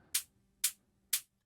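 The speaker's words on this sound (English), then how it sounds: "Just a simple shaker hat from the Daydream Organic House Pack, shifted down a bit." Three evenly spaced hits of a shaker hat sample from the Daydream Organic House Pack, pitched down a bit, each a soft breathy burst with a short swishing tail, close and alone.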